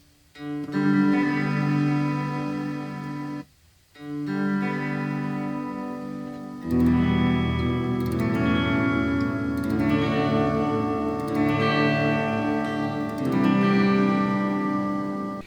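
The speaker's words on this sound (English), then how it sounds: "That's some big reverb right there." Sustained guitar tones ring out through a cheap rack reverb effects unit, with a big, lush reverb tail and a shimmering, echoing wash that swells and lingers.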